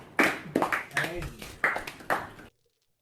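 Crowd applause at a StarCraft 2 WCS Spring 2019 tournament: several short bursts of clapping that rise sharply and fade, heard alone before silence at the end.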